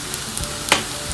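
Spices for an egg curry frying and being stirred in a pan, soft sizzling with a few light scrapes and one sharper clink of the spoon against the pan, close and fairly quiet.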